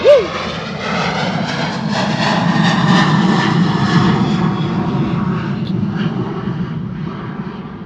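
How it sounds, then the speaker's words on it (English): A Jet2 Boeing 737 in holiday livery departs Bristol Airport, a loud, sustained jet roar that stays steady throughout and eases off slightly toward the end. "Beautiful departure in the holiday livery. Nice and loud."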